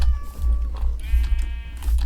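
Sheep bleat in a farming video game, a couple of wavering cries standing out over a steady low background hum, close and moderately loud.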